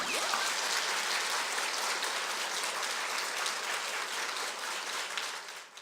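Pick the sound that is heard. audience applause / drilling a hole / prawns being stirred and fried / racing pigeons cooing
audience applause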